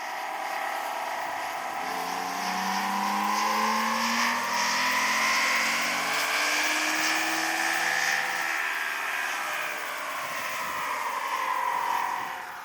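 A Toyota Tacoma engine runs with an aftermarket exhaust, its loud, steady drone rising and falling in pitch as the revs sweep up and back down across the run, with no talking.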